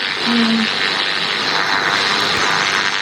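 An airplane engine drones steadily and loudly nearby, a continuous broad roar with a brief tonal blip near the start.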